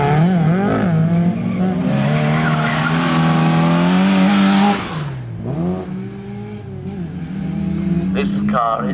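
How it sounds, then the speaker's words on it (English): A Skoda rally car on a live rally stage at the Race Retro show comes around the final bend with a loud, revving engine and squealing tyres, while a commentator talks over it. "now you'll recognise a Skoda out there coming around the final bend here"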